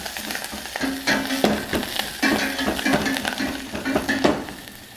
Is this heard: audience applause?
no